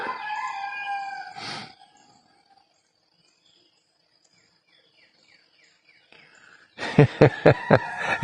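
A rooster crows loudly nearby, then after a stretch of near silence a second crow breaks out, harsh and strident.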